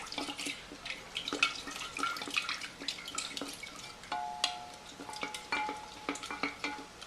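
A spoon stirring lime juice and sugar in a container, quick clinking and swishing strokes, close and fairly quiet, with a faint tone near the end.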